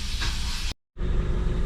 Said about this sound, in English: so the compressor going off, but I hope you guys can still hear me